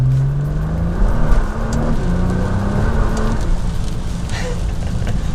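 A Nissan GT-R accelerates through the gears on a rain-soaked road with its tires spinning, engine note rising in steady pitch sweeps beneath a constant wash of road and spray noise, loud and close from inside the car.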